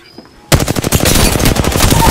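Gunfire in Apex Legends: after a short quiet moment, loud sustained automatic weapon fire erupts with rapid, dense shots continuing to the end.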